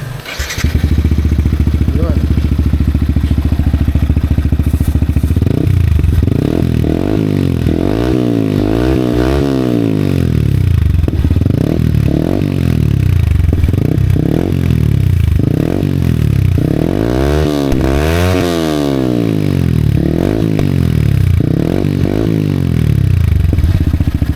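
A Yamaha MT15 fitted with a replica pro pipe exhaust idles, then is revved again and again in loud, close throttle blips that rise and fall in a deep, rasping roar.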